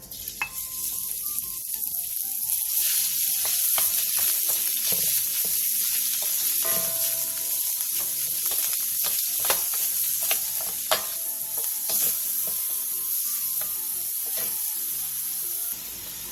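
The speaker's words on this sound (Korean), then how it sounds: "그 다음 버무려 놓은 재료들을 넣고 5분간 중불에서 볶아주세요." Beef brisket and vegetables sizzle and crackle steadily in sesame oil in a hot pot over medium heat, with occasional clinks and scrapes of stirring, close and continuous.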